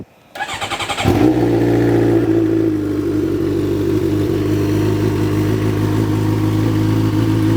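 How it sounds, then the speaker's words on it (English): A 2022 Suzuki GSX-R 750 motorcycle engine cranks and fires up, then holds a loud, close, steady droning run for several seconds with no talking. "And this bike sounds amazing, guys, especially when you really get into it"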